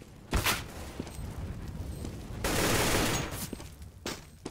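Bursts of gunfire from a CS:GO match play at moderate volume, with single shots and rapid strings plus a longer dense volley in the middle, set over soft in-game footsteps and ambient noise.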